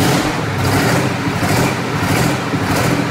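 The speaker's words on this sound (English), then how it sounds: "The Detroit Diesel 12V149 is a two-stroke V12 powerhouse that demands respect and ear protection." Detroit Diesel 12V149 two-stroke supercharged V12 diesel engine running, a loud, dense, continuous roar with a deep low-end rumble and slight pulsing throughout.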